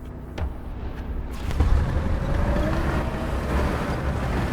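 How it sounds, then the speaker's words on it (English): Russian tank engine in War Thunder, a low continuous rumble with a rough droning texture that swells slightly partway through and holds steady to the end. "I hear a Russian engine, danger close."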